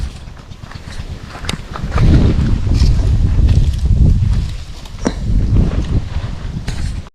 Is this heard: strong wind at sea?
yes